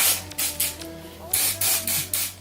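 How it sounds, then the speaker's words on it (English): Root-boosting spray mousse hisses onto a loose deep wave closure wig in about six short, close bursts, with gaps between pumps. "Now I'm just spraying this, it's like a root boosting spray mousse."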